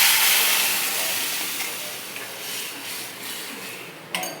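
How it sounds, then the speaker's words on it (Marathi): Cumin seeds crackle in hot oil and a loud hiss rises as spice paste is added to the pan, a broad sizzle that slowly fades, with a metallic clink near the end. "जिरं चांगलं हे झालं का तडतडलं का डायरेक्ट ही पेस्ट त्याच्यामध्ये टाकायची"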